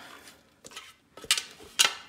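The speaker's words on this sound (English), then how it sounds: "I'm just gonna pull that out with my spatula" A spatula scrapes homemade playdough out of a food processor bowl, giving a few quiet scuffs followed by two sharper, brighter scraping strokes near the end, close and alone.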